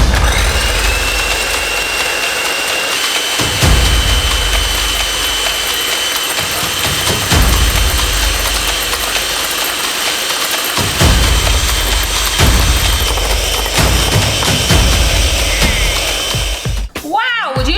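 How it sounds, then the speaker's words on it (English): Egg whites are whisked in a bowl until thick. A loud, continuous whirring drone with a faint rhythmic pulse runs throughout and cuts off abruptly near the end. "when I whisk up these egg whites, it's going to turn into a much thicker consistency"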